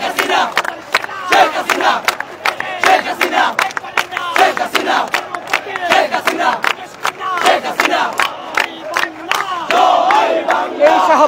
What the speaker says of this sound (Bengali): এখানে একটি বড় মিছিল আমরা দেখতে পাচ্ছি, সেখানে তারা স্লোগান দিচ্ছে।